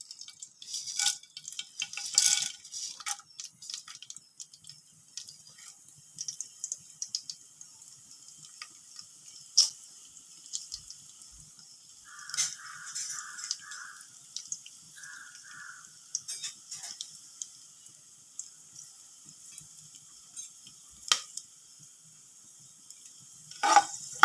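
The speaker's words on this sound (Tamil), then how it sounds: "மிளகு சீரகம் பொரிஞ்சிடுச்சு" Whole pepper and cumin seeds crackle in melted ghee as a tempering for ven pongal, giving faint, scattered ticks and pops with quiet sizzling, mostly sparse and soft throughout.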